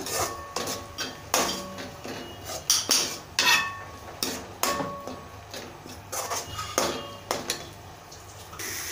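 Ginger garlic paste being stirred with onions in a pan for mutton curry, with close, irregular scrapes and clinks of a utensil against the pan at an uneven rhythm.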